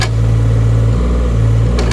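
Mini excavator engine given a little throttle, a loud steady drone whose low pitch steps up and down as the revs change, close and continuous with no voices.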